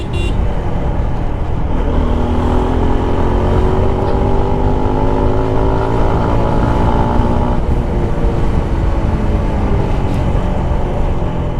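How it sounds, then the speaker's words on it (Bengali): A motorcycle engine with a quick-throttle setup drones loudly and steadily nearby, its pitch rising smoothly as it revs up, with constant road noise and no voices. "বাইকের সাউন্ড শুনলে বোঝা যায় যে টানতাছে কেমন"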